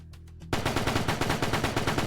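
A soldier in the video game Future War Tactics opens sustained automatic fire after a brief quiet start with a few faint pops; the rapid, loud shots continue steadily to the end.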